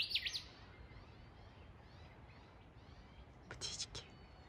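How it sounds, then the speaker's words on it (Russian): Birds chirp briefly at the start and again near the end, high and fairly close, over a steady low outdoor rumble. "Птички разные."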